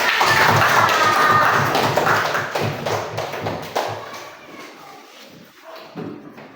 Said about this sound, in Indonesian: Baiklah, tepuk tangan.